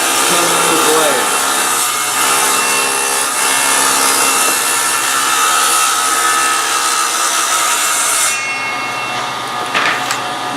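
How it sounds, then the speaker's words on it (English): A saw fitted with an 8 1/4 inch Tenru blade cuts spline slots in wood, giving a loud, steady, continuous whine and rasp for several seconds that cuts off abruptly near the end. "we're using that 8 1/4 inch Tenru blade"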